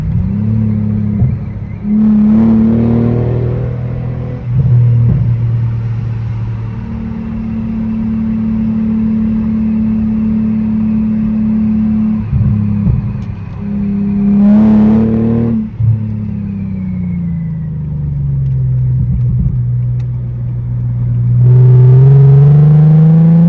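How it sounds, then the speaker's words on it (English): A 3.2-liter Mercedes W210 E320 sport sedan pulls off the interstate and downshifts, the engine note droning, then rising and falling in repeated revs with a rumbling, steady in-cabin hum and no talking. "I'm in third for the downshift real quick."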